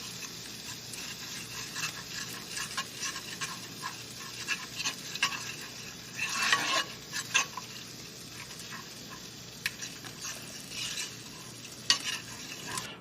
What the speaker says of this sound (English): Probably put maybe a tablespoon and just melt it into the sauce.